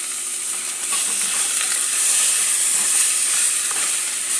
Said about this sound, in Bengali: এবার মাংসটা দিয়ে দেব। মাংসটাকে একটু কষাবো।